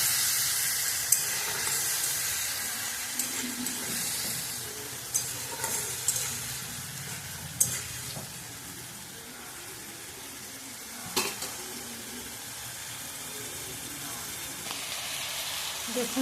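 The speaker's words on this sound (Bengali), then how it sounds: "এবার এটাকে আমি ভালো করে নাড়াচাড়া করবো। মশলাটা কষতে হবে, ভালো করে নাড়াচাড়া করে মশলাটা কষবো।" Ground spice paste and onions fry and are stirred in a pan for a Gach Pathar curry: continuous close sizzling hiss with scattered scraping clicks of a spoon against the pan.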